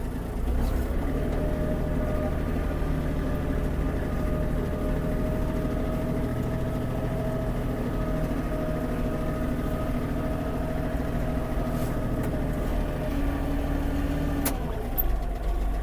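Kubota GL-29 Japanese mini tractor engine running in reverse, a steady low droning hum with even harmonics, close and continuous, with a faint click near the end.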